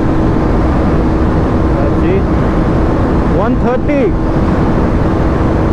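KTM Duke 250 motorcycle at high speed in fifth gear during a drag race, a loud continuous engine and wind roar throughout while someone talks over it.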